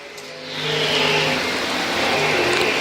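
A race car engine revs up as the next qualifier starts at a state race event, a loud rising mechanical roar that swells after a quiet moment and holds steady, no speech.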